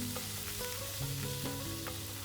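Pieces of cut kunafa frying in butter or ghee, giving a steady, close sizzle with light stirring scrapes on top and no voices.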